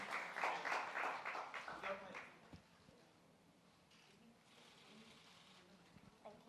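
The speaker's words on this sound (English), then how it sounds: "A huge round of applause." The audience at a face wash product launch event gives a short burst of applause. Clapping rises strongly for about two seconds, then fades into quiet room noise.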